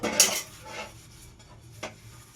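Pots and dishes being washed in a home kitchen, with a loud clatter of metal pans and cutlery near the start, softer scraping and rinsing after it, and one more sharp clink near the end. Nobody speaks.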